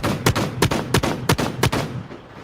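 The secondary shotgun of a combat tank in the video game Silica fires five sharp, loud blasts at a steady rhythm of roughly one every third of a second, then falls quiet.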